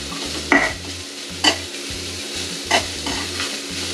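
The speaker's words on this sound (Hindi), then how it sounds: "ये आप देखिए प्याज हल्का सा फ्राई हो गया। अब इसमें मैंने अदरक और लहसुन का पेस्ट डाल दिया एक चम्मच के करीब।" Onion frying with ginger garlic paste in a pan, a steady sizzle broken by three distinct stirring scrapes at even intervals, close and clear.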